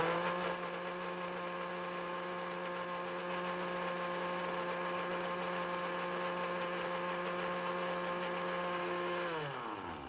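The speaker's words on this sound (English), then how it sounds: "when you blend it up in the blender like this" Countertop blender whirring as it emulsifies oil into a white wine salad dressing, a loud steady motor whine with strong tonal hum that runs continuously, then winds down at the end.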